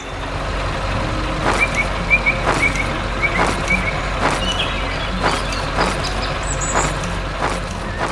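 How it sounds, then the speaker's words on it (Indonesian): Animated red truck working on a farm: a steady engine drone with repeated sharp clanking knocks roughly every half second and short high beeps, close and busy, with no talking. "truk merah sedang bekerja keras"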